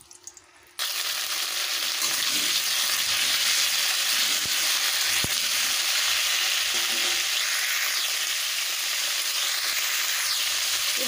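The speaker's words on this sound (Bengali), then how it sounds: "কপিগুলোকেও ভেজে নেব" Cauliflower pieces dropped into hot oil set off a sudden loud, continuous sizzle that holds steady for about ten seconds, close up, with a few faint clinks and no talking.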